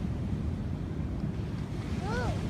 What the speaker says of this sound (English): We're at the beach and the ocean.